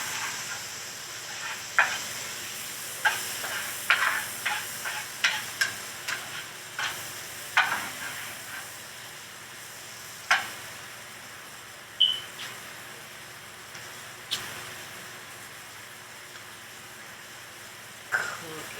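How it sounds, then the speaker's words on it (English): Eggs frying in a pan with a little salt, a steady sizzle under repeated scraping and stirring clicks from a utensil, with a person talking faintly. "Cooking with some eggs"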